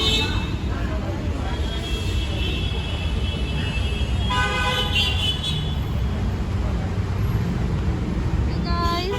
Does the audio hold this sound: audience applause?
no